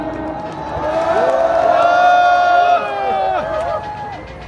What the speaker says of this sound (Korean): 크게 큰 박수 한번 주세요.